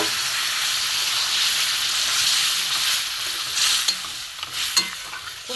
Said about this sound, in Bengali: ডাল সেদ্ধটা দিয়ে দেবো।